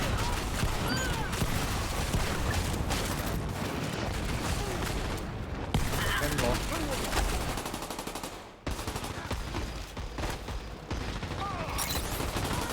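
Shotgun gunfire in the shooter game Dirty Bomb booms repeatedly in dense, loud bursts, mixed with other weapons firing and game effects, while a player speaks briefly over the barrage.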